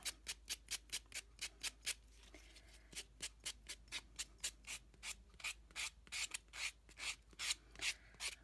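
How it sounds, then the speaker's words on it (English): Rhythmic sanding strokes against the edge of a small wooden nickel, about twenty close, even rasping passes, steady at first and growing slightly louder and more irregular toward the end, with no talking. "Let's sand the edges off a little bit."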